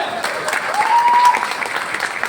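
Audience applause at a Hindi-speaking event, a steady wash of clapping holding at an even level for a couple of seconds.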